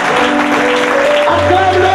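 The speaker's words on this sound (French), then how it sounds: "Est-ce qu'on peut acclamer?" A church congregation applauds and cheers during a sermon, a dense, continuous wash of clapping and voices that swells toward the end, with sustained tones and a loud low note rising beneath the crowd.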